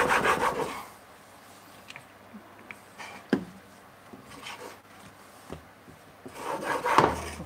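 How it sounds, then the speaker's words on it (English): A woodworking tool's secondary bevel being sharpened in a woodshop, heard as rasping rubbing strokes at the start and end with a few sharp knocks and scrapes in the quieter middle. "now we can create the actual sharp edge now on the secondary bevel"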